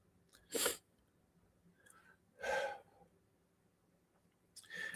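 A person sneezes sharply three times, spaced a couple of seconds apart, close and loud against a quiet room, with faint breathing between.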